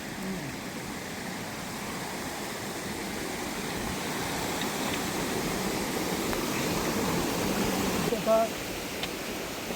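A steady rushing of a mountain stream fills the scene, constant and fairly close, with a brief knock near the end.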